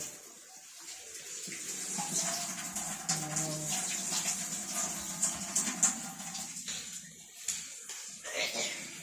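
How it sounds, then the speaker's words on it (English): Water gushes steadily from a tap while a cooking pot of chitlins, orange and green bell peppers, purple onions and potatoes is filled for a Thanksgiving meal, a continuous close splashing rush lasting several seconds. "Put some water over."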